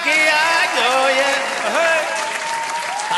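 Audience at a Hindi comedy poetry show claps in a dense, sustained burst that runs the full length, with a voice talking loudly over the applause.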